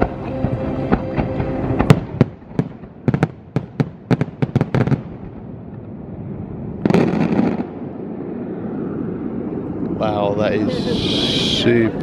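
Epcot Illuminations fireworks over the lagoon, heard from the Boardwalk near the Ale & Compass: a run of sharp, loud bangs and crackles, a later burst of booms, and a rising whistle near the end, with crowd murmur underneath.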